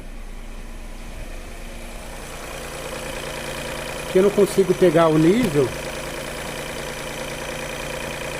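Overheating Volkswagen Up engine idling with the hood open, a steady mid-pitched hum running throughout while someone talks over it partway through.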